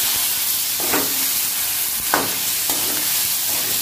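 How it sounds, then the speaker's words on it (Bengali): Boiled moong dal hits a hot pan and sizzles loudly, a steady hiss broken by several distinct scraping strokes of a spoon stirring, with no voices. "একটু নাড়াচাড়া করে ডালটা এর মধ্যে ঢেলে দেবো"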